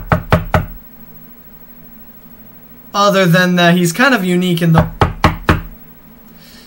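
Several sharp knocks on a door come in quick bursts at the opening and again near the end, loud and close, with someone talking in between.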